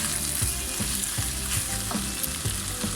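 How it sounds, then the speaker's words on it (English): Cut chilli stirred into a sizzling bobotie mince mixture, a dense continuous frying hiss with regular rhythmic scraping strokes of the spoon, close and alone. "We're going to add in our cut chilli."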